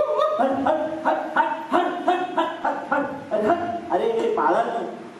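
A performer in a solo acting competition imitates a dog with the voice, giving a run of rhythmic, fairly loud bark-like yelps and whines close to the microphone, repeated steadily over several seconds.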